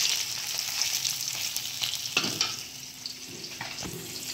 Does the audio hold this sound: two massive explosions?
no